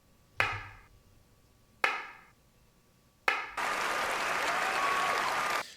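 Three separate sharp hand-clap samples ring out one after another, each with a short decaying tail, followed by a dense, sustained burst of layered claps panned wide across the stereo field.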